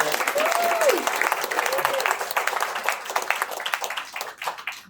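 Audience at an eXp South Africa roadshow in Cape Town giving a round of applause, steady clapping from a room of people that gradually tapers off, with a brief voice heard early on.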